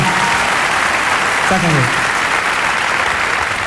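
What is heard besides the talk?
audience applause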